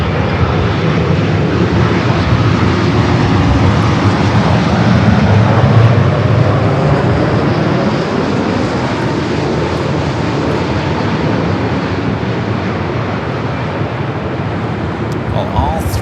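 Lufthansa Boeing 787 Dreamliner jet at Los Angeles airport, a steady loud broadband engine roar sustained throughout, swelling slightly mid-way, with voices talking over it.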